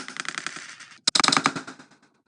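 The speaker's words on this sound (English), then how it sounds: "it has a rotating spring-loaded missile thing here. I'll get a clip of me shooting that." A spring-loaded missile launcher on a Lego Marvel Avengers Compound Battle 76131 set is fired, giving rapid rattling clicks in two quick bursts separated by a brief gap, close and fairly loud.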